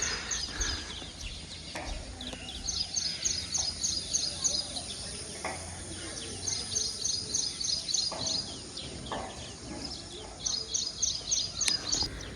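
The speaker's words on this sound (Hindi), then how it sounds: "ये देखो चिड़ियाओं की आवाज़, ये पंछी उड़ रहे हैं," Small birds chirp in quick repeated bursts of high tweets around a hillside home in Rishikesh, fairly close and clear over soft outdoor ambience with faint insect sounds, and a voice speaks at times.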